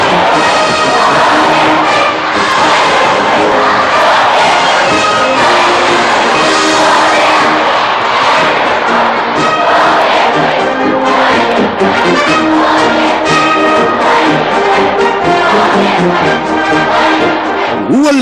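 A huge crowd at Beijing railway station cheers and roars enthusiastically as a special train pulls in, a loud, dense wall of voices and shouts sustained without pause.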